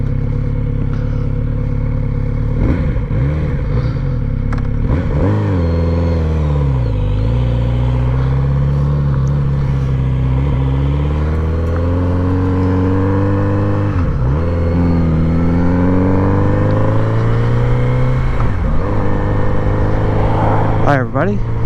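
A Kawasaki Z900RS SE motorcycle on the move, loud and close, with an engine drone that rises and falls through repeated revs and gear changes, plus wind rumble.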